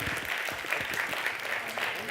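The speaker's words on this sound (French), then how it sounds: "On peut les applaudir" A modest audience at a startup competition claps for presenters, dense and even but fairly faint, with a voice briefly audible over the clapping.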